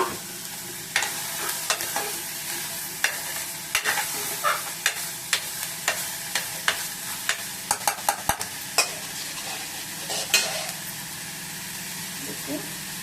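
Potatoes and curry leaves fry in a pan, a continuous soft sizzle beneath repeated sharp scraping knocks of a spoon stirring against the metal, regular through most of the stretch.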